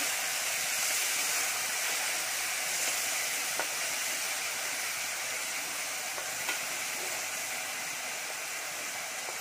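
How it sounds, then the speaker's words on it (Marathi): Cumin, asafoetida and a ground ginger-garlic-chili paste sizzle steadily in a hot pan, a dense continuous hiss and crackle with a few faint pops, close and unbroken for the whole stretch with no talking. "जिरं टाकूयात, हिंग, आलं, लसूण, मिरची यांची बारीक करून घेतलेली पेस्ट टाकून घेणार आहे"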